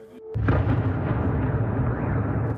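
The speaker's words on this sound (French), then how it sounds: "La sirène et au loin, le bruit sourd d'une explosion." A distant, dull missile explosion in Kyiv during a night air raid, heard as a sudden low boom that rolls into a long, sustained rumble.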